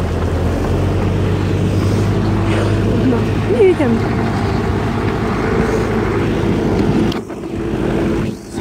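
An Ursus C-360 tractor ploughing a field in spring, its engine a steady loud drone throughout, with someone talking briefly over it and wind buffeting the microphone.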